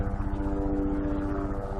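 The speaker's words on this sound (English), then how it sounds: "Comes the helicopter tour." A steady, loud mechanical drone with a rapid pulsing throb, like a helicopter engine and rotor heard from inside or very near, continuous throughout.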